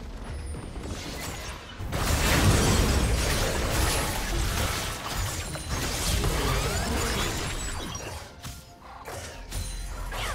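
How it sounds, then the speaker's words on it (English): In a League of Legends match, a turret is destroyed with a dense, rumbling crash and crumbling debris that sustains loudly for several seconds over continuous game effects. "Blue team's turret has been destroyed."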